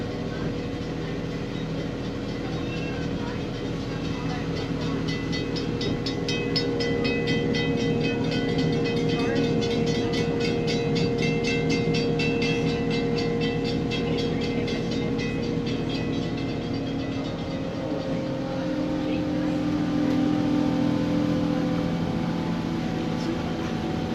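A Pemberton Tramway tram in Western Australia rolls along its track on a wet day, giving a steady, close rumble with faint rhythmic clicking over the rails that continues throughout.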